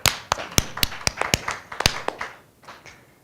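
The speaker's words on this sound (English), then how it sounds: "we can certainly give you also an applause again" Applause from a small group in a training session, sparse individual claps scattered over about three seconds, fairly close and thinning out toward the end.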